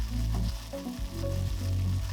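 Halibut fillets pan-fry in butter in a hot cast iron skillet, giving a steady close sizzle with faint rhythmic pulses and no voices.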